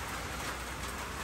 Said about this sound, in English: it's raining on today too